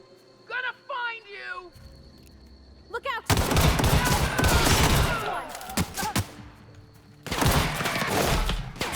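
Gunfire in The Outer Worlds, the video game: dense, loud bursts of rapid shots in two long stretches, preceded by short voiced cries and continuing under overlapping talk.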